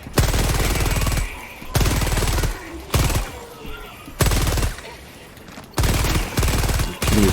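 Video game gunfire in rapid bursts: five or six loud volleys of automatic fire, each lasting about a second, separated by short quieter gaps with faint background game sound.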